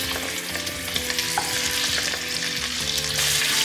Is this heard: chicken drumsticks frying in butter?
yes